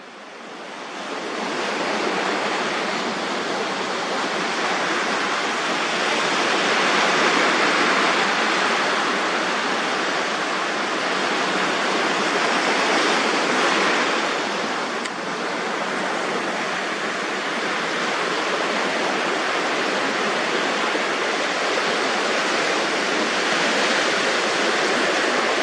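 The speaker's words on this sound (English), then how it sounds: "So when we've got the bubbles coming out of the sand, it's further evidence of water seeking its level." Water bubbling and seeping up through sand, heard as a steady broad rushing wash that stays loud and continuous throughout with slight swells and no voices.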